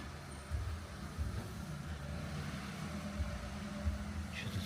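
A car drives by on a quiet old-town city street, Bukureštská, at night: a low, faint rushing of engine and tyres that swells gently and stays distant.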